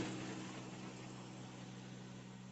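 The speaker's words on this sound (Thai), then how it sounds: "รถไถมาเลย เดี๋ยว เดี๋ยวรถถอยมา" Steady mid-low engine drone of a tractor idling and backing up in a rice field at harvest, continuous and moderately loud with no clear change in pitch and no voices.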